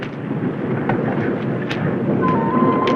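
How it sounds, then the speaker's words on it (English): A woodland thunderstorm builds, with steady rain hiss and low rumbling thunder rolling in the background, broken by a few faint sharp crackles. "That storm was a-building up to a real snorter"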